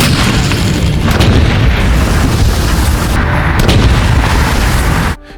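A D-30 howitzer fires with a loud, heavy boom and a sustained roar of blast noise that fills the scene, then cuts off abruptly near the end.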